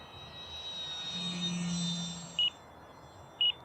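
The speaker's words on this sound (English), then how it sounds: "Does have a nice prop sound." A Durafly Tundra RC plane's propeller hums in flight, a steady moderate drone that swells and fades slightly, joined by two short electronic beeps near the end.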